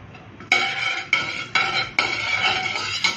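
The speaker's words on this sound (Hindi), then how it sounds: "जैसे ही हमारा घी गर्म होगा, हम इसके अंदर अपने सारे ये गरम मसाला ऐड कर देंगे।" Whole garam masala spices tossed into hot ghee in a cooking pot for dum rice, heard as a few sharp metallic clanks and rattles against the pot, each followed by a sustained bright ringing, with no talking.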